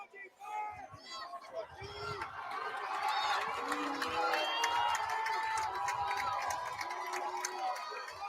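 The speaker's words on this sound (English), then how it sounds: "Mankato East crowd coming to life on this third down." A home crowd at a high school football game, Mankato East versus Mankato West, comes alive on a crucial third down, cheering and shouting that swells and holds loud behind an announcer's talk.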